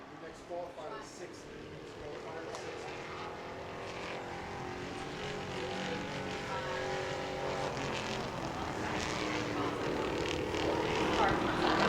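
Pure stock Monte Carlo race car qualifying at New Smyrna Speedway, its engine roaring steadily and building as it laps, heard under a public-address announcer's commentary.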